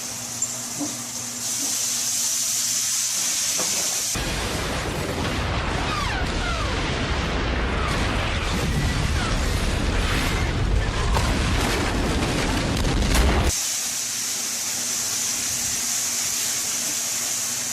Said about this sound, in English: first steak is seared and has been flambéed with the cognac